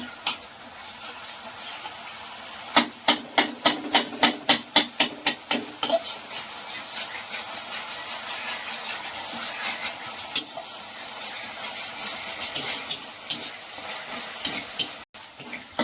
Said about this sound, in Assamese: এতিয়া মছলাটো ভাজা হৈ গৈছে, দেখিছেনে তেলবোৰ ওপৰত আহি গৈছে।